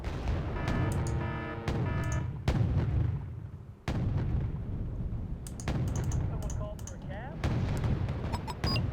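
Tanks trade fire in Wargame: Red Dragon, T-90s and T-72s against Abrams, with repeated loud booming shots and blasts arriving in bursts over a dense, continuous battle roar.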